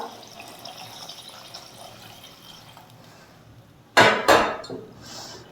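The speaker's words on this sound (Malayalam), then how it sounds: "നമുക്ക് ഗ്രേവിക്ക് ആവശ്യത്തിനുള്ള വെള്ളം ഒഴിച്ചു കൊടുക്കാം." Quiet kitchen background, then a short burst of water splashing and pouring into a pot of black pomfret fish curry, lasting about a second before fading.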